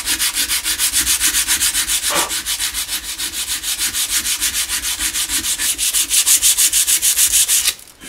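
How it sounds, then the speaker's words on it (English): Sandpaper rubbing over the rusty, seized pots of a Marshall JCM800 Lead amplifier, with fast, steady back-and-forth strokes close to the mic that run almost without a break and stop near the end. "let's just have a little look here and see what a bit of sandpaper will do on here"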